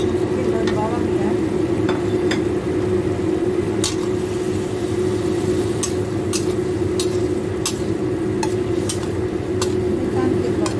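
Chayote and scallions stir-frying in a pan, a loud continuous sizzle and hiss with sharp spatula clicks against the metal at irregular intervals, with faint talk underneath.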